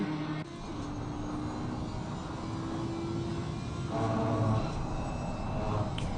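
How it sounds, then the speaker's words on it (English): An Audi race car engine roars steadily in a racing video game, a continuous loud drone with faint shifts in pitch and no talking over it. "Do you like the sound of that Audi engine?"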